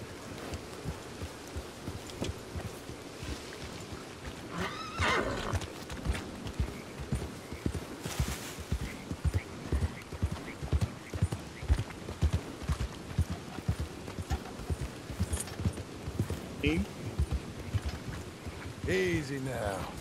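Rhythmic video-game horse hoofbeats clip-clop steadily throughout, with occasional sharper noises and a whinny-like cry near the end; no clear talking. From Red Dead Redemption 2.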